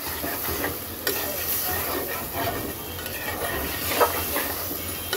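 Masala paste stirred and frying with a little added water in a pan for a Bengali tengra fish and yardlong bean curry, giving a steady close sizzle with scraping spoon strokes and occasional clinks.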